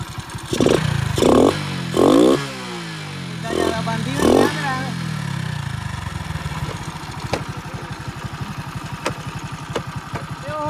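A modified Hero Splendor motorcycle with big tyres and its air filter removed runs loud and close, giving a few sharp throttle revs before settling into a steady, rough, chugging idle.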